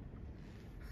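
Wind buffets and rumbles against the microphone in a steady low roar, with no other sounds.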